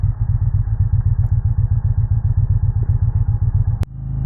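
A 2025 Indian Challenger motorcycle with the Power Plus 108 engine rumbles loud and close through its exhaust in a steady pulsing throb, then a sharp click near the end as the note shifts.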